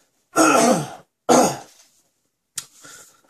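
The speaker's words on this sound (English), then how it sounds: "Excuse me, I got a cough." A person coughs and clears their throat close up, two loud rasping bursts followed by a shorter, weaker one.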